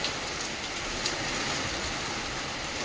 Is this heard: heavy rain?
yes